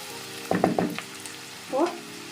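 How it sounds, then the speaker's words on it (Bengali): Onions frying in a pan are briefly stirred, a soft sizzle with a short cluster of scraping strokes, then a pause and one more brief tonal burst over steady background tones. "আমি হালকা করে পেঁয়াজটা একটু নাড়াচাড়া করে নেব"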